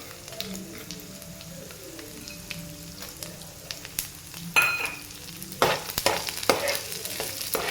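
Oil sizzles steadily as tempering spices fry over medium flame, with clinks and scraping of a spoon stirring the pan, growing louder toward the end.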